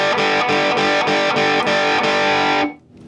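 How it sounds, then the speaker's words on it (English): A guitar runs through an overdrive pedal into a VHT Special 6 Ultra amplifier, strummed in a steady driving rhythm with thick, saturated distortion, then cut off, with the tone fading into quiet. "It's a unique overdrive and unique approach to the overdrive pedal format"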